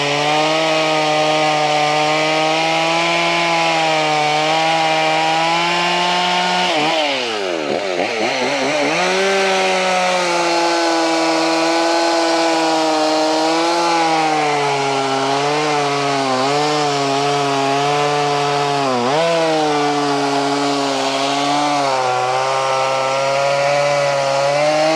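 A 1980s Husqvarna 50 Rancher chainsaw runs loud and close while cutting a log, its engine holding a steady high whine that dips briefly as it bogs under load and then climbs back, with no talking over it.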